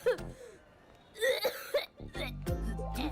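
A person coughs in a few rough bursts amid a tense film scene, with other voices speaking around the coughs.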